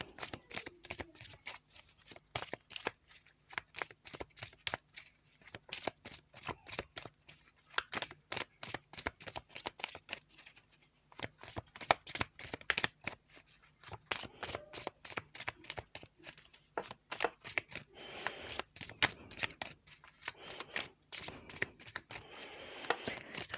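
Tarot cards being shuffled by hand in a steady run of crisp riffling, flapping bursts that continue with brief pauses, close and clear, with no talking over them.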